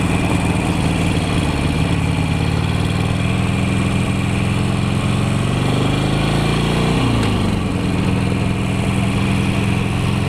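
Wind roars through a motorcycle helmet during a ride home from bike night, producing a loud, continuous rushing hiss over the steady drone of the engine, with a slight shift in engine pitch midway.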